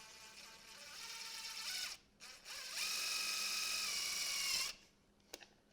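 Power drill driving a self-tapping sheet metal screw into the oil filter of a 2019 Beta 500 RR-S motorcycle, a whining motor in two sustained runs with a brief pause, then a couple of faint clicks.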